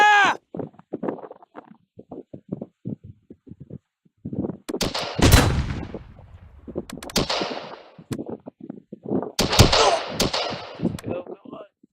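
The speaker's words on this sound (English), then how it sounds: "We're under heavy fire." Heavy gunfire in the Close Combat war game, sharp shots and bursts cracking out in irregular clusters, with radio-style voice lines and speech scattered between them.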